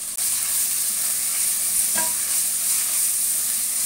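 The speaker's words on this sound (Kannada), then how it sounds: "ಸ್ವಲ್ಪ ಪುದೀನ, ಸ್ವಲ್ಪ ಕೊತ್ತಂಬರಿ ಸೊಪ್ಪು, ಒಂದೇ ಒಂದು ಟೊಮೆಟೊ, ಇದಿಷ್ಟನ್ನ ಇವಾಗ ಒಗ್ಗರಣೆಗೆ ಸೇರಿಸ್ಕೋತೀನಿ" Mint, coriander leaves, a single tomato and turmeric hiss loudly in hot tempering oil, a dense continuous sizzle with a brief clink of stirring near the middle.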